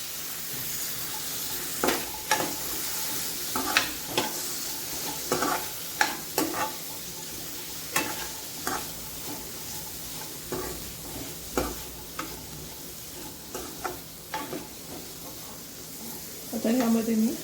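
French beans stir-fried in a pan, a soft sizzle under repeated scraping strokes of a spatula at a fairly regular rhythm, near and moderately loud.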